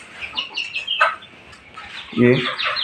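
Young chickens, about two and a half to four months old, give soft clucks and chirps in short bursts, close by and fairly quiet, with a louder cluck near the end.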